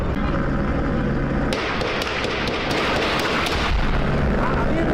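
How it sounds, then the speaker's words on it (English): Gunfire captured on a police bodycam during an ambush: a dense, loud, continuous roar with sharp cracks and thuds, chaotic and without a clear rhythm. "Gunfire erupts again."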